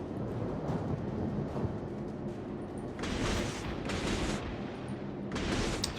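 A Japanese Tier V Minekaze destroyer fires its guns in World of Warships, giving a few sharp broadband bursts over a steady low engine-like rumble, the shots clustered in the latter half.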